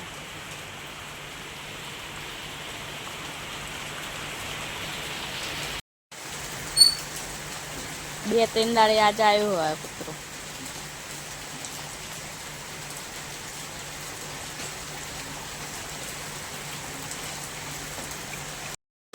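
Steady rain falls throughout, a dense even hiss near the microphone. A brief dog bark or mixed clatter cuts in near the middle. A short gap interrupts it early on, and a voice speaks briefly.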